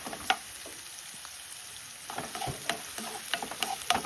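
Small onions (shallots) stirred and frying in a pan for a Kerala-style mushroom curry, with a steady close sizzle and scattered scraping spoon strokes that grow busier toward the end.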